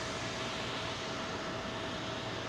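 A royal family flight aircraft at London Heathrow Airport, runway 27L, gives off a continuous, even engine roar that stays fairly faint and distant for the whole stretch.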